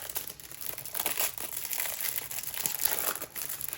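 Plastic budget binder envelopes crinkle and rustle close up as they are handled, a run of uneven crackling bursts with no talk.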